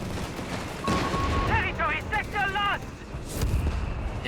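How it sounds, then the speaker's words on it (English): In Company of Heroes 3, a mortar tube fires during a match: heavy booming blasts under a commentator's steady talk. "Full mortar fire here out of FeriG's mortar tube."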